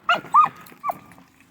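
Coonhounds cut loose on a hunt, at the edge of a field by timber, give a few short, loud baying bawls in quick succession, fairly close, with no talking.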